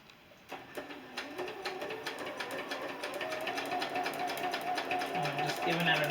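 A sewing machine stitches quilt pieces for a Drunkard's Path quilt with a shortened stitch length, producing a fast, steady mechanical rattle of close, regular needle strokes that grows slightly louder over several seconds.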